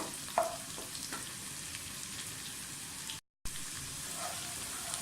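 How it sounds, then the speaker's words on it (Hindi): Onions fry with whole spices in a cooking pot, giving a soft, steady sizzle with faint crackles and a light stirring knock, close but quiet, with a brief gap of silence partway through. "प्याज हमारी फ्राई हो रही है। अभी ये पूरी फ्राई नहीं हुई, इसके साथ आप ये साबुत मसाले डाल दें"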